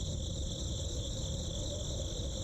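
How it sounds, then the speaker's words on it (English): Crickets chirp outside in The Darkside Detective video game, a steady, unbroken high trill over a low background hum, even and continuous with no voices. "There's a chirping sound from over here. Crickets, maybe?"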